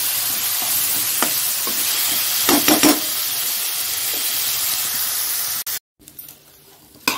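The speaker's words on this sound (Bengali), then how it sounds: "দেখো আলুটা মোটামুটি ভালোই ভাজা হয়ে গেছে" Potatoes fry in a pan, giving a close, steady sizzle with bursts of stirring and scraping, then the sizzle cuts out briefly before resuming more faintly.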